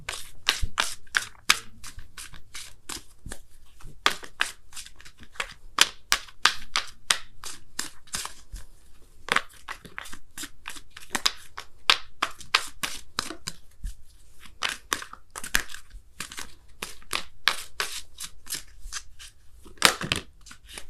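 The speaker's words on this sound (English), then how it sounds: "I'm going to pull you guys a Wisdom of the Oracle card as well" A deck of Wisdom of the Oracle cards being shuffled by hand, producing rapid, crisp riffling clicks and flicks in uneven bursts for about twenty seconds, close up and without talk.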